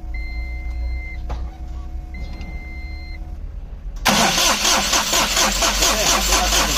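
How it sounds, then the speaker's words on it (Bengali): Electric self-starter cranking a diesel engine, starting abruptly as a loud, rhythmic churning with a fast pulsing beat that continues steadily, close by, after a quieter stretch of faint tones and background noise. "এখন আমরা সেলফ ক্রাঙ্কিং করবো"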